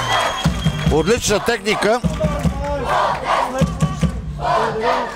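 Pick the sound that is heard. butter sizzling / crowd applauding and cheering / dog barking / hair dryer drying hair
crowd applauding and cheering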